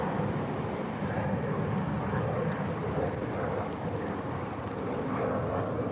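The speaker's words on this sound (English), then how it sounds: "here's another flight taking off. This one's another American flight." An American Airlines jet takes off at Chicago O'Hare, heard as a steady, broad rumbling roar from a distance that holds unchanged throughout, with a windy hiss mixed in.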